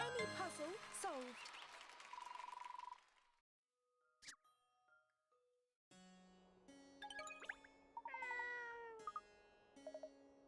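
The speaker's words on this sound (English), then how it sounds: "Goodbye, evil cat." A cartoon cat from the Layton video game meows several times in bright, tonal cries, with game music and jingly chimes around them and a short quiet gap partway through.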